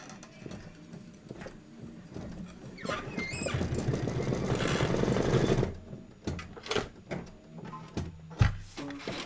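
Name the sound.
embroidery machine stitching a quilt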